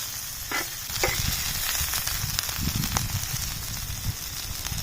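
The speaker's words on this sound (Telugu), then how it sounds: "మంచి బ్రౌన్ కలర్ వచ్చేదానికి ఇట్లనే ఫ్రై చేసుకున్నాం" Chicken liver frying on a hot iron pan, street style, a loud dense crackling sizzle with a few sharp pops and scrapes up close, no voices.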